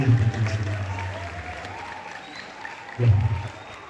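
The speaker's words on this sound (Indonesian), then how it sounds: "tepuk tangan dulu" Audience applause at a colossal Calonarang performance at Gedung Mario in Tabanan, Bali: two bursts of clapping, one at the start and a louder one near the end, with murmuring crowd noise in between.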